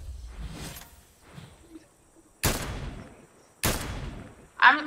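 Gunfire in Fortnite Chapter 3 Season 3: two loud, sharp shots about a second apart, each with a short decaying tail, after a stretch of quieter game sounds and a few faint thuds.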